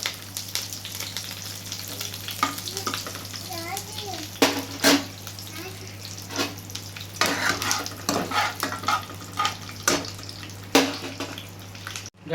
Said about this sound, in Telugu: ఆయిల్ మంచిగా డీప్ ఫ్రై చేయాలి.